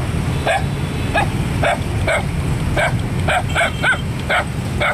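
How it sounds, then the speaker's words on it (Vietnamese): Small dogs at a roadside pet-selling spot bark in a steady series of sharp yaps, loud and close, about ten barks over a few seconds with no talk. "Ở đây có những em chó nhỏ nè"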